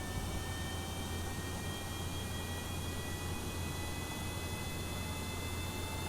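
Rocket engines throttling up at launch in Kerbal Space Program, a steady, loud, hissing roar with a faint whine running through it, unbroken and alone without any voices.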